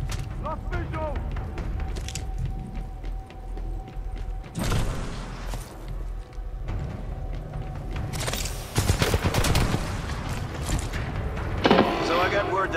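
Gunfire and explosions in the shooter Titanfall 2, bursts of shots and booms over a steady game soundscape, with a voice speaking at times.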